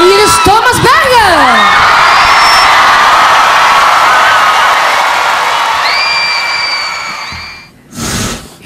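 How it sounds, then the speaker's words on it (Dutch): A studio audience greets Thomas Berghuis with loud cheering, whoops and shouts over sustained applause, the din staying strong for several seconds before fading out. "Geef hem een heel groot applaus aan meneer"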